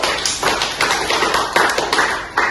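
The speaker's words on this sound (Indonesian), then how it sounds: "Mari kita berikan aplaus dulu" Classroom applause from a group of students, a dense, steady patter of many hands clapping close by for a couple of seconds, with small surges in intensity and no talk.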